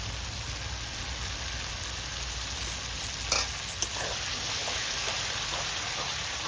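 Tomato paste fries with spice masala in oil for a chicken-skin dish, giving a loud, continuous sizzle like steady rain, with a few sharp scrapes of a stirring spoon midway and no talking.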